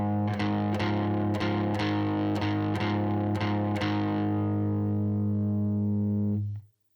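Distorted electric guitar plays a blues boogie rhythm riff with strings left ringing open rather than palm-muted, about eight evenly spaced picked attacks over a sustained, saturated drone that cuts off abruptly at the end; loud and close, with no talking.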